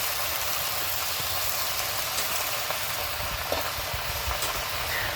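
Young Malabar spinach frying in a pan while cooking for a Bengali hilsa dish, giving a steady broadband sizzle that holds evenly without a break, close and moderately loud, with no talking over it.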